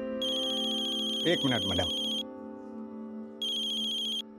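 A phone ringtone plays in loud, steady electronic bursts, stopping briefly while someone speaks a few words and then ringing again, heard indoors.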